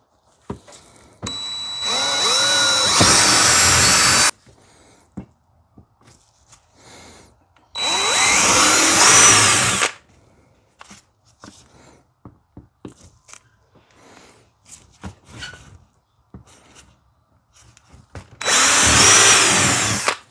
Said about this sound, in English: I'm going to start using the smaller bit to go ahead and actually drill the hose